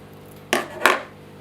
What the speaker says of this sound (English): you can use your scissors. You can cut the plants away